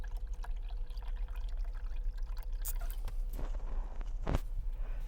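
Water poured by hand in a campervan kitchen with no sink, a steady close trickle and splash under a low hum, ending in a brief louder splash.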